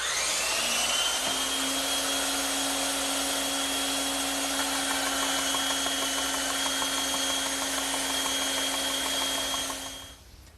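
A power saw whines steadily for about ten seconds while cutting a heavy, slightly tapered wooden trestle-table stretcher, a loud constant drone with a rising tone that stops abruptly at the end.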